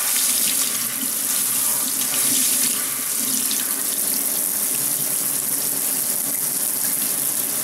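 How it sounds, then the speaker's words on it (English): Hot water runs steadily from a tap into a sink as a sponge is rinsed, a continuous close hiss and splash with no talking. "We'll rinse our sponge out real good."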